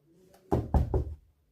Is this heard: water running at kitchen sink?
no